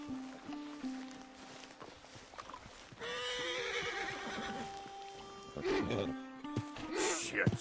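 A spooked horse in Red Dead Redemption 2 lets out a loud, shrill whinny, then snorts and neighs again amid hoof clops, close up, with someone speaking over it.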